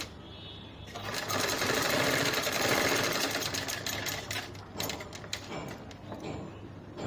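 A sewing machine stitches fabric for a hair bow, its rapid mechanical whirr running steadily for several seconds before tapering into lighter, uneven bursts as the stitching slows.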